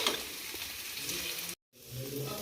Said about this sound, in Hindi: अब इन मसालों के साथ हम अच्छे से इसको पकाएंगे सिर्फ 2 मिनट के लिए।